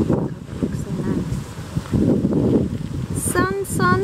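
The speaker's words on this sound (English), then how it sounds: "It's a little bit windy, but it's warm wind." Steady warm wind buffets the microphone in rough gusts on a Miami Beach boardwalk, with a faint voice or two briefly heard near the end.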